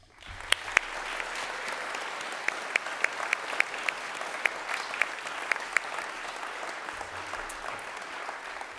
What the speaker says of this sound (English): could we please give a round of applause for every student who helped their house with their sculpture